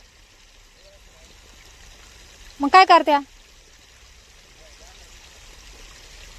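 Irrigation water runs onto a safflower field with a faint, steady rushing flow, briefly interrupted by a short spoken phrase in the middle.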